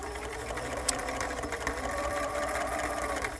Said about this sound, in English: you'll see as I stitch around that it slightly avoids my original stay stitching line